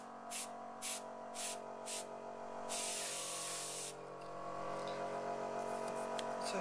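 Copic airbrush spraying ink mist in five short sharp bursts, then one longer steady hiss, close and fairly quiet, with a faint background hum throughout.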